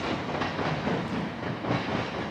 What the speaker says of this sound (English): I can hear a train, but that's the actual train